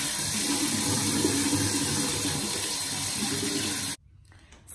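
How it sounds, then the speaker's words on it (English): Tap water runs steadily into a bathroom sink as a face is rinsed, a close, loud hiss that stops abruptly near the end. "Now I'm going to rinse my face off."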